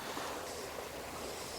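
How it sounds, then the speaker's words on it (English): A fast river squeezes through a narrow gap on a trout and grayling stream, giving a steady, close, broadband rush of moving water with no voices. "Is it fast and quick and the river's squeezing through a small gap."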